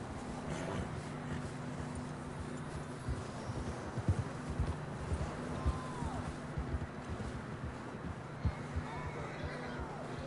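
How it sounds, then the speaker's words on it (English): Horses clip-clop at a steady trot in the video game Red Dead Redemption 2, with even, fairly quiet hoofbeats that continue without a break across the whole stretch. "I think we can go much further on the horses."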